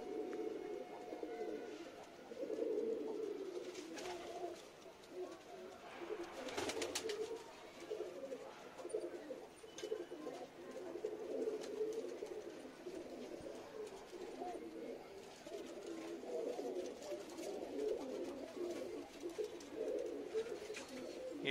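Punjabi and Madrasi pigeons in a sale coop cooing, soft low repeated coos overlapping from several birds nearby, with faint rustles and occasional wing flutters in a quiet setting.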